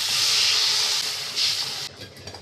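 Water poured into hot masala for a Bengali fish curry with fried potatoes sets off a loud, steady hiss of steam that surges briefly and then cuts off abruptly, leaving faint bubbling.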